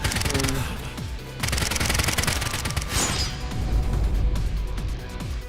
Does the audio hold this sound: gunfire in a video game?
yes